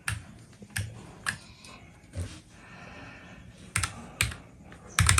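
Keys clack on a mechanical keyboard used across Apple devices, a quiet run of irregular clicks with a few sharper, louder bursts of keystrokes, close up and without talk.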